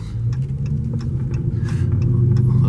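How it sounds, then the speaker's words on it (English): Dodge Charger RT engine running with a deep, steady low rumble heard from inside the car, building slightly louder toward the end over faint ticking road sounds. "You just want to hear the engine."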